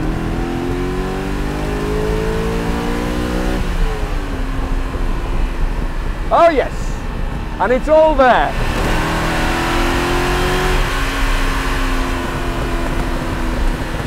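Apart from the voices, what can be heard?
V8 car engine revving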